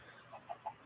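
Chickens in a city-building video game give a few soft, short clucks, three faint spaced calls over quiet background ambience.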